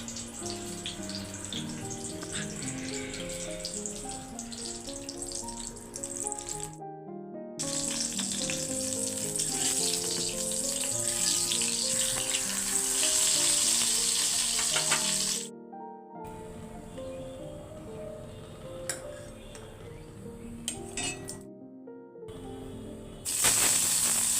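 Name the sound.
frying peeled eggs and potatoes in a pan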